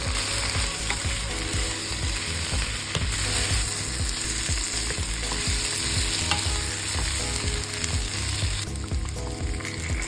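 Beef and ginger slices are stir-fried in a pan with onions and garlic, sizzling loudly and steadily up close while a utensil scrapes and stirs in quick repeated strokes, with no voices.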